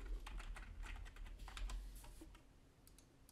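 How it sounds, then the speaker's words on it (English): A computer keyboard clatters with a quick run of close, crisp keystrokes that slow and thin out toward the end, followed by a single click. "Press 1 on the keyboard another time, left click"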